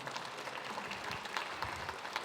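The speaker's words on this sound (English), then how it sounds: "Let's give Satara a round of applause." Quiet, scattered applause from a small audience at a Lumbee Days cultural presentation, soft and somewhat distant with a few sharper claps.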